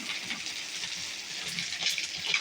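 Sliced okra sizzles and fries in a hot pan, a steady crackling hiss at close range with faint stirring underneath.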